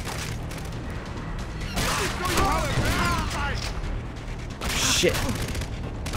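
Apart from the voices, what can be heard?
gunfire shooting at the player in video game Far Cry 3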